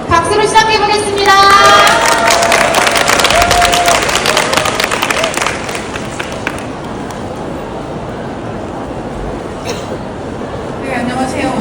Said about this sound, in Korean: 박수로 시작해 보겠습니다.